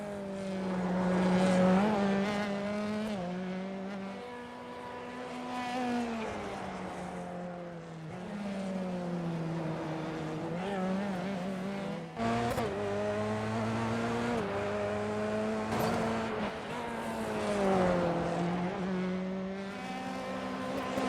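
F3 race cars on the Belle Isle circuit in Detroit scream continuously close by, their engine pitch rising and falling through gear shifts and corners.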